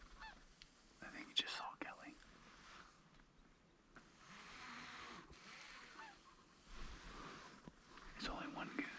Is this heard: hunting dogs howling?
no